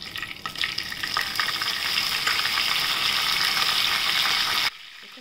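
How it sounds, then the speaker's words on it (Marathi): Curry leaves sizzle loudly in hot tempering oil, a bright crackling hiss that rises then cuts off abruptly near the end, with no talking. "आता आपण याच्यात फोडणीमध्ये कढीपत्ता टाकूया"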